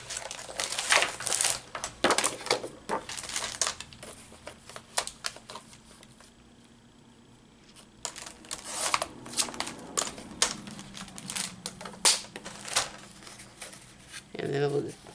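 Paper is cut for a journal cover, with crisp crinkling snips and rustles in short bursts, a quiet pause in the middle, then more cutting and handling of paper.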